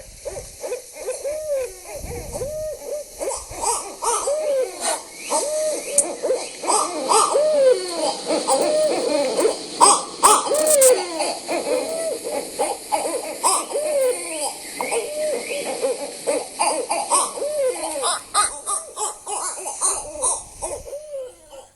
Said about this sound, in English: one of the most unpleasant sounding birds in Nebraska is the barred owl